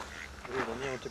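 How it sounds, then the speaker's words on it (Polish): Ducks quack by a lake in Klagenfurt, a brief burst of nasal calls mixed with people talking nearby. "kurde, zobacz, dwóch kaczorów"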